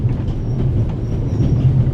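A train rumbles along the rails in the game The Raven Remastered, a heavy, steady low roll of wagons with faint rhythmic clatter, loud and continuous.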